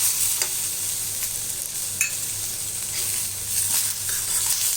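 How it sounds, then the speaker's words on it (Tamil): Chopped onions sauté and sizzle in a pan for a roadside-style onion chutney, with a steady frying hiss and occasional scraping stirs, close and continuous with no talk. "இதை நல்லா ஒரு 2 வதக்கு வதக்கிட்டு"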